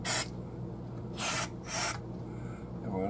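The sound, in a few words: spraying electronics cleaner from a can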